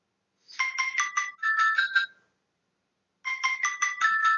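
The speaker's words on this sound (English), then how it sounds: "Oh, you hear the phone?" An electronic phone ringtone plays in two warbling bursts separated by a short silence, clear and close.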